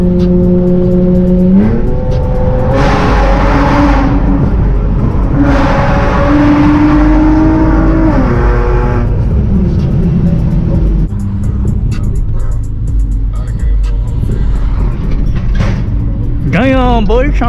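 A Honda Accord with a V6 engine revs hard through several gear pulls, its pitch climbing and dropping between shifts. It is loud and close from inside the car, with road and wind noise and a final sharp rise in revs.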